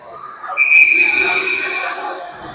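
A referee's whistle shrills once at a hockey game between the Thunderbirds and St. Louis, a bright sustained blast rising over steady arena crowd noise.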